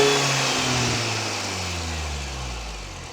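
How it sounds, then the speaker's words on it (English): A Mini Cooper S R53 engine revs up and then slowly winds back down, a close, steady, throaty drone whose pitch sinks over about three seconds, heard alone. "Here's a little rev."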